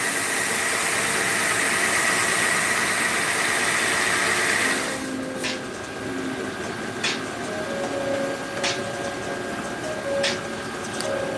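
A wood lathe spins while a turned pen is sanded, giving a loud, steady broadband whir for about five seconds. The sound then drops to a quieter motor hum broken by a few sharp clicks and taps.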